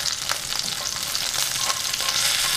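Hot oil sizzles and crackles steadily in a pan as homemade chicken nuggets fry, a close, continuous spitting hiss with small bursts.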